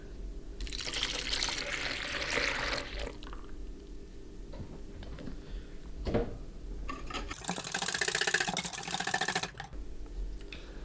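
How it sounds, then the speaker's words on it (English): Milk pours into a whisked batter mixture in two bursts, a soft liquid splash and trickle that fades in between, with a light knock in the middle. "Add in your milk."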